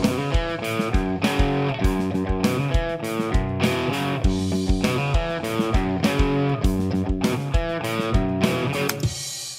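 A programmed drum loop from Kontakt Studio Drummer, used for a blues rock song, plays alongside distorted guitar: punchy kick, snare and cymbal hits repeat in a steady, even groove, loud and close, with no talking.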